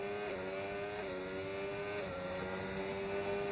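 A race car engine in a racing video game drones at steady high revs, with pitch rising in smooth sweeps between gear shifts over a constant background hum.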